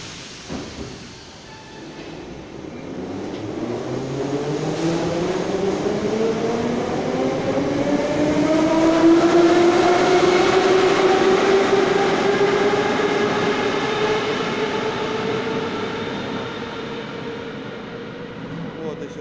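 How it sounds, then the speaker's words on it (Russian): A Moscow metro train pulls away deep underground at Verkhnie Likhobory station, its motor whine rising steadily in pitch as it accelerates, loud and continuous with a rumbling low end. "Посмотрим, как поезд поедет в сторону центра."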